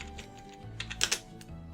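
Quick bursts of keystrokes on a computer keyboard, a short run of light clicking taps at close range with brief pauses between.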